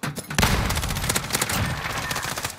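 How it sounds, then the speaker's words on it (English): Rapid bursts of gunfire in an online shooter game, loud and close, with dense overlapping shots forming a sustained fusillade after a brief opening salvo. "Oh, they shoot it on me."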